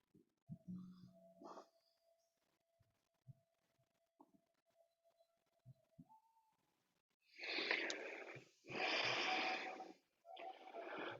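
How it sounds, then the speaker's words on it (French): A person breathes during a yoga exercise in a quiet room, with faint scattered small noises early on. Then come three strong, airy breaths close by, each lasting about a second or more. "On va respirer."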